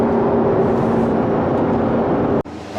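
A Corvette C7 fitted with an AWE touring exhaust cruising on the highway, a loud constant low droning rumble with wind and road roar, ending in a sudden dip and shift in tone.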